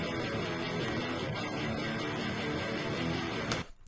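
An electric guitar picked up by SM57 and Rode microphones blended together plays a full, driven passage that carries on steadily, then stops sharply just before the end, with no speech.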